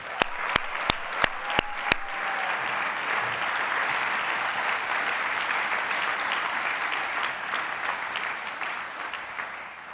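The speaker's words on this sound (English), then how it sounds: "Give yourselves a round of applause." A few distinct single claps ring out, then a large crowd at a business school graduation ceremony breaks into sustained, even applause that continues steadily throughout.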